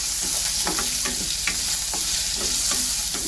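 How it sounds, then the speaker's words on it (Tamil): Small shallots fry in a hot pan for a kuzhambu, a constant dense sizzle with a spoon scraping and stirring in quick, repeated strokes close by; no talking. "வெங்காயம் தக்காளி தேங்காயெல்லாம் போட்டு இப்போ நம்ம வதக்கிக்கலாம்"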